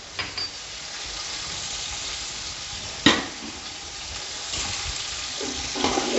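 Garlic and ginger fry in hot oil in a pot for beef pulao, a steady close sizzle broken by a few scraping stirs of a spoon against the pot.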